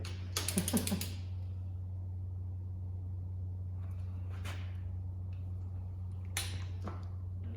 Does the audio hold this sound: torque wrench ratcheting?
yes